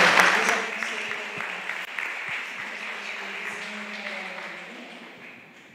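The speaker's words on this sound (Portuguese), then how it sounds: "Podemos aplaudir a Jesus." A church congregation applauds, a burst of clapping that starts strong and gradually tapers off, with some voices and background murmur underneath as the room quiets.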